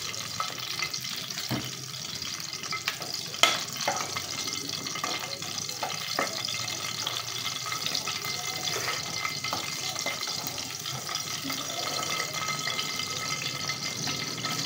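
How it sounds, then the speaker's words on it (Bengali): Chicken frying in hot oil in a pan gives a continuous, even sizzle and crackle for the whole stretch, with a sharp clink near the start and faint background noise. "বাকি চিকেনগুলো আমি এখন ভেজে নিব"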